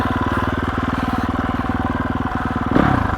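A 2021 GasGas EX 350F dirt bike engine runs steadily at a close, loud, throbbing idle with a slight rev rise near the end, no voices over it.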